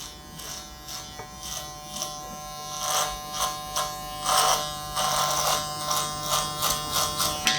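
Electric hair clippers buzz close up while trimming sideburns in a barbershop haircut, the motor's hum swelling and dipping in repeated short passes through the hair.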